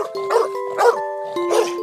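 A dog barks three times in a quick, evenly spaced series, close and clear, with a steady tonal hum sustained underneath.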